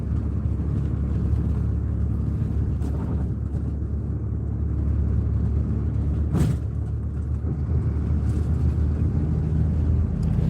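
Continuous loud engine rumble and road noise from inside a moving bus on a long-distance trip, steady throughout with a brief rattle partway; no talk.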